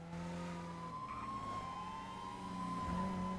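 Police siren in GTA 5 roleplay, a sustained wailing tone that rises and falls steadily over engine and traffic noise, fairly loud and continuous with no talking.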